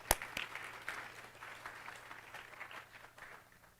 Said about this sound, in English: Let's give Mr. Alan Bobby a round of applause as well